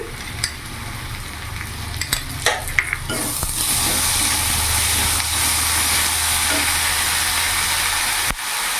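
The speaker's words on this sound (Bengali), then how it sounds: "পেঁয়াজটা ভাজা ভাজা হয়ে গেছে এবার এখানে আমি আদা রসুন লঙ্কার পেস্ট দিয়ে দিলাম" Ginger-garlic-chili paste hits frying onions in a pan and sets off a loud, steady sizzle, with a few sharp stirring clinks early on before the sizzle takes over for the rest of the clip.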